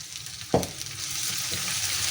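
Ginger garlic paste sizzles steadily in hot oil after a soft plop as it hits the pan, with a constant frying hiss and no talk.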